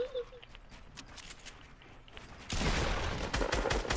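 Fortnite gunfire bursts through a broadband rattle that jumps much louder and denser halfway through, a sustained close fusillade of rapid shots with no talk over it.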